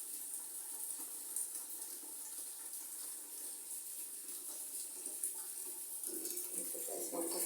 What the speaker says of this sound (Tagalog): magpupuno lang tayo ng tubig